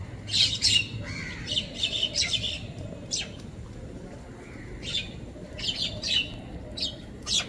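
Agitated white-breasted waterhen giving repeated loud, harsh squawks in bursts, close by, with brief pauses between calls and a low background rumble.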